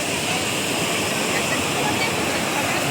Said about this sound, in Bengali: নিচের ভিউটা ঝর্ণা পড়ছে পাথরের উপর দিয়ে